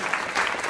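A live audience at a Bhojpuri music show claps briefly, a short dense burst of applause at moderate loudness.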